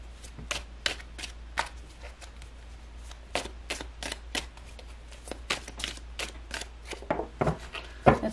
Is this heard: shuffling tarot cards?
yes